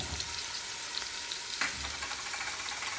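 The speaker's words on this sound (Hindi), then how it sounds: "अब हम इसमें ऐड कर रहे हैं अपना लहसुन अदरक का पेस्ट।" Garlic-ginger paste frying in a pan with browned onions for restaurant-style chicken karahi, a steady close sizzle with faint stirring scrapes throughout and one brief sharper burst midway.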